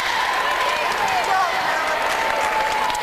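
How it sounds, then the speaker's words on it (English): Crowd at a girls' high school basketball game in a regional tournament, a steady wash of cheering and applause filling the gym, loud and continuous with a commentator's voice running over it. "The Eagle faithful still cheering them on."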